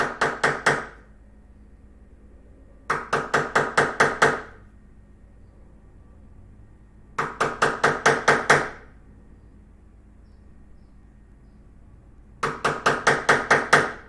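Steady mallet blows drive a chisel into wood while fitting a workbench end vise, struck in four bursts of about six to seven sharp, ringing knocks each, loud and close, separated by pauses of a couple of seconds.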